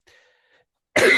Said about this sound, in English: pardon my hacking and coughing